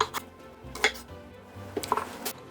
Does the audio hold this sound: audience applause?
no